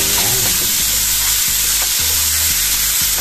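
Onions sizzle and crackle in a hot pan while a spoon stirs them, with repeated scraping strokes over a steady loud frying hiss; no voices.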